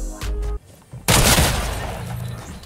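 A sharp, loud gunshot in Fortnite bursts out suddenly and decays into a long, rumbling tail, following a shorter burst of game noise.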